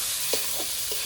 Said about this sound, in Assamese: চাওক লাৰি আছে।